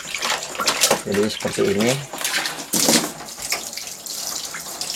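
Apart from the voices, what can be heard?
running tap water rinsing paint off a screen-printing screen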